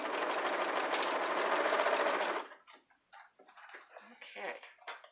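A sewing machine stitches fabric in a fast, steady whirring run for about two seconds, then stops, after which a voice speaks up close.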